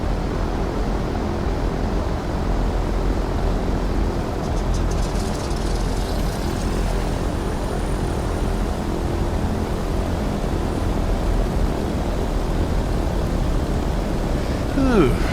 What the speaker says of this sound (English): Alrighty, so both engines are fired off now.